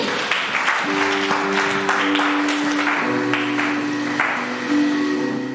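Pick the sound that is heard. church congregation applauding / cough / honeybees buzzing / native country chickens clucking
church congregation applauding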